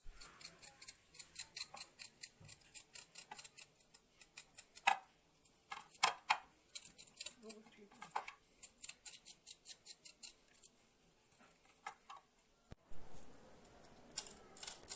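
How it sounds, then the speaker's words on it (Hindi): A blade cuts through peeled fresh turmeric root in a long series of sharp, crisp chops, some louder than others, close and without speech. "अब इसको छील कर तो काटते हैं।"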